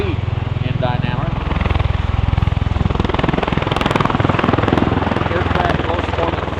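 An MV-22 Osprey tiltrotor with two Rolls-Royce turboshaft engines driving its 38-foot rotors passes at an airshow, producing a loud, rhythmic rotor thumping and turbine roar under a public-address announcer's voice.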